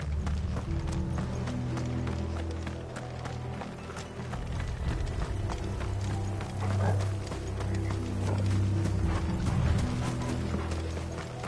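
Horses clip-clopping in Final Fantasy 16, a steady run of close hoof clops mixed with creaking, rattling gear over a low hum, with a little talk in places.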